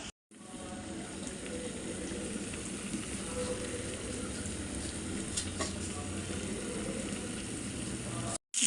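Karimeen, pearl spot fish, fried in a pan, giving a steady, even sizzle of hot oil that holds at a low, constant level throughout.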